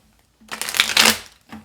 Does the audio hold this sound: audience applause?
no